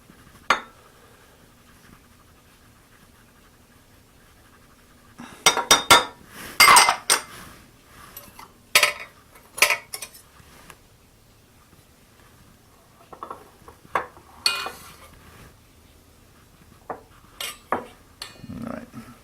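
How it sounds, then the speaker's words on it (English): A spoon or whisk clinks against a bowl as yeast is stirred into pizza dough ingredients, bursts of scraping and tapping coming in scattered clusters with quiet gaps between, close and fairly soft. "give it a little stir"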